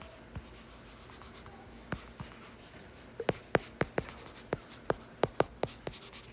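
A pen or marker writes on paper or a board during a Korean English-grammar lesson, making a series of quick, close scratchy taps and strokes that start sparse and speed up into a steady rhythm, with no speech.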